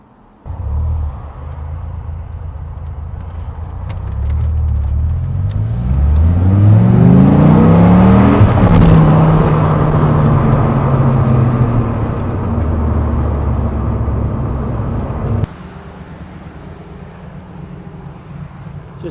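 A 1996 Dodge Viper GTS with a lumpy cam starts up and revs hard while driving, its loud rumbling engine sweeping up in pitch then settling into a steady drone before cutting off abruptly.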